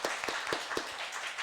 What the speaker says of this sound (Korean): 예, 인사할 때 박수로 격려합시다.